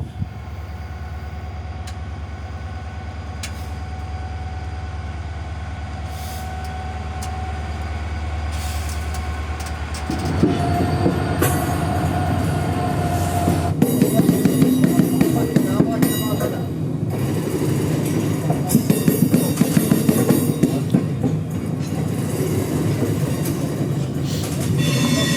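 A train rolls slowly over weighing scales during night loading on a heritage railway, a steady low rumble giving way to louder clattering wheel and wagon noise that builds and persists to the end.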